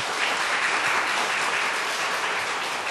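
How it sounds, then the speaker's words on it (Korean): A crowd applauding steadily at a children's worship singing contest, a dense wash of clapping hands that holds at an even, fairly loud level for about three seconds with no talking. "일단 박수로 좀 시작을 하도록 하겠습니다"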